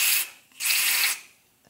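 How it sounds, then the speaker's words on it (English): Two short hissing bursts of heavy-duty silicone aerosol spray into an SR Suntour T890 bicycle fork, close up, separated by a brief pause. "I'm gonna use some silicone, heavy duty silicone, spray this down in there"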